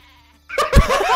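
Sheep weapon in the Worms video game lets out a loud, wavering bleat that begins after a brief near-silence and carries on to the end of the clip.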